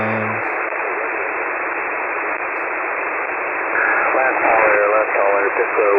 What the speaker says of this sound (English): This is kind of the things we would hear over the radio.